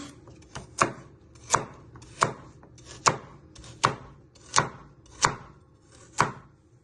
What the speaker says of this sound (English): And then you just want to slice it into little pieces.